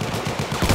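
Burst of rapid automatic gunfire from Battlefield 1 in the Argonne Forest during Conquest, a quick rattle of close shots lasting under a second.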